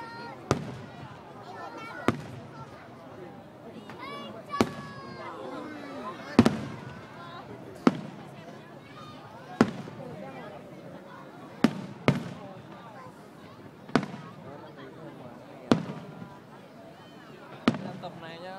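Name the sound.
fireworks exploding at Lunar New Year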